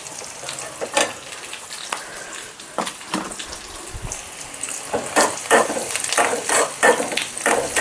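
Tempering with a pinch of asafoetida fries in a pan for a South Indian radish sambar, crackling and sizzling in close bursts that grow busier and louder toward the end.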